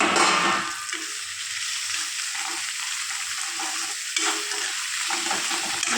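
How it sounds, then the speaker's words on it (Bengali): Tomato pieces go into medium-fried onion in a pan on a gas stove for a soybean curry, giving a steady close sizzling hiss with soft stirring scrapes throughout and no talking. "তো এখানে একটা বড় সাইজের দেখে টমাটোর কেটে নিয়েছি, ওটাকে দিয়ে দিলাম।"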